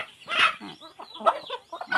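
Chickens and chicks cluck close by in quick overlapping bursts, fairly loud and alone.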